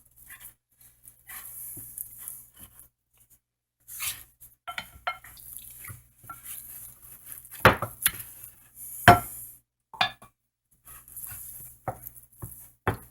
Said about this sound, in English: So I'm just adding the salt and mixing it really well.